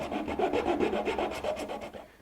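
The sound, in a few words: coarse file filing cedar wood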